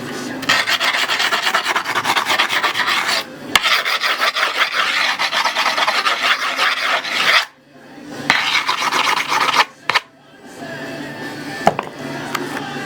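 Sanding the edge of skateboard grip tape on a board, a continuous harsh rasping scrape in long strokes with brief pauses, close and loud with no talking.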